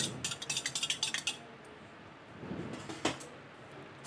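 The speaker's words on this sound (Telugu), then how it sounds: "ఒక గిన్నెలో పెరుగును తీసుకొని దాన్ని బాగా మజ్జిగలాగా చిలుక్కోవాలి." Curd being whisked in a bowl into buttermilk, with a quick run of rhythmic clinking strokes against the metal bowl, followed by quieter scattered clinks and a single sharper knock, no voices.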